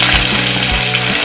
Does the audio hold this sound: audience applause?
no